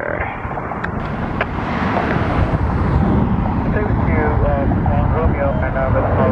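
A Delta Airbus A321 jet airliner on the runway at Atlanta airport, a loud steady engine roar building from a distance, with wind noise and people talking over it.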